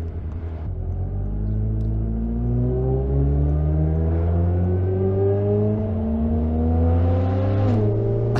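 A 2021 Suzuki Hayabusa motorcycle revs loudly at low speed, its engine note climbing in steady rising sweeps with a brief dip before rising again, close and dominant throughout.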